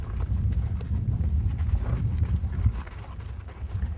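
A horse walking in a dressage schooling session, hooves thudding in a steady low clip-clop rhythm throughout, fairly close and continuous, with no talk over it.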